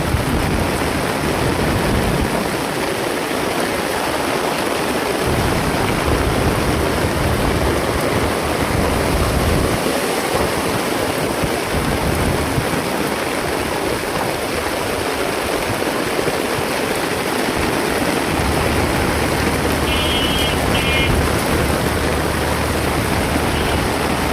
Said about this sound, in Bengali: কি বৃষ্টি যে নামছে ভাই।